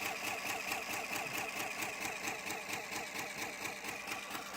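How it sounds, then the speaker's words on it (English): A Burk EAS encoder's built-in printer runs steadily: a continuous fast mechanical chatter with a regular pulsing rhythm, close and moderately quiet, with no talking. "And the printer's working"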